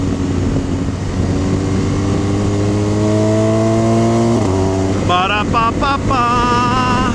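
A motorcycle rides a mountain road in the Picos de Europa, engine droning steadily with rising and falling pitch through gear changes, heavy wind rush over the microphone, and the revs climbing sharply near the end.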